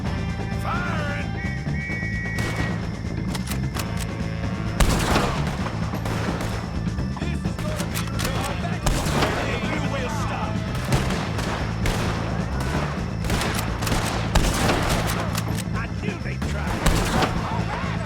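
Repeated gunfire from a Red Dead Redemption 2 shootout, sharp shots and bursts recurring throughout over a constant low game music and ambience bed, with voices talking at points.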